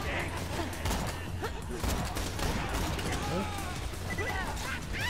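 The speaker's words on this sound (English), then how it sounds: "Sentry gun prime!" Rapid automated gunfire from a sentry gun in Borderlands 2, rattling steadily in a chaotic four-player fight with mechanical clatter and voices talking over it.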